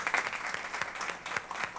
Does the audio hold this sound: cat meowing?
no